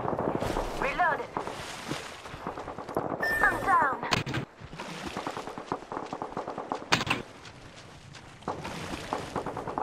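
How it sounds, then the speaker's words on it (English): Rapid gunfire in Apex Legends rattles on and off across the stretch, dense crackling volleys with a few sharp louder cracks, mixed with game voice callouts and ambient battle noise. "I'm getting shot at."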